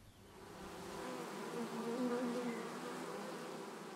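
Honeybees from a colony being smoked at its entrance buzz nearby in a droning hum that swells and then holds, with no voices.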